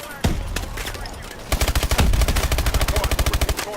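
Rapid suppressing gunfire in the video game Advanced Warfare, a burst of automatic fire followed by a long steady rattle of closely spaced loud shots, with no talk over it.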